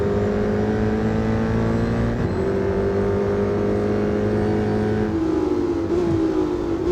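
Ford Shelby GT500 engine in the racing game Real Racing 3, a steady loud droning roar holding pitch with a brief gear shift near two seconds and another rising shift near five seconds, no talk.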